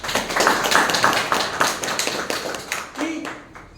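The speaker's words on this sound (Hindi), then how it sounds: "चलिए इसके लिए जोरदार ताली हो।" A seated audience at a Hindi career-guidance talk bursts into loud, sustained applause, a dense clatter of many hands that carries on for several seconds with a few voices mixed in.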